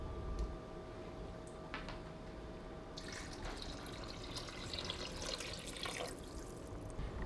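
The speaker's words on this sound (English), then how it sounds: "I'm gonna add 4 cups of liquid to this soup." Liquid, four cups added to a pot of soup, is poured in with a continuous splashing and trickling that grows busier halfway through, close by and moderately loud.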